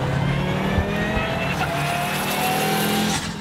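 Lamera Cup race car on a circuit accelerating hard with its sequential gearbox, a loud continuous engine drone with rising harmonics and brief dips at each gear change, plus some tyre squeal, close and alone.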